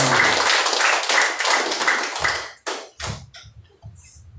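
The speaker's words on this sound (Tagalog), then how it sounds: "malakas na palakpak sa Panginoon." Loud congregational clapping at a Sunday worship service, a dense roar of hands that fades out into a few scattered last claps and taps.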